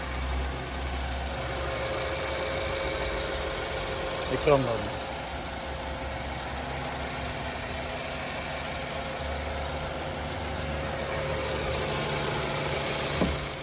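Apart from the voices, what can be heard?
Honda Accord engine idling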